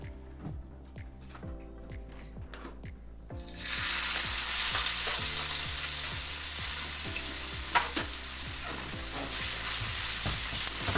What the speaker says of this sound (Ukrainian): Смажимо цибульку.